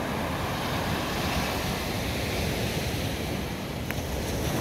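Sea waves wash steadily onto the southern beach at Kiten, a continuous broad roar of surf mixed with wind buffeting the microphone, with no voices over it.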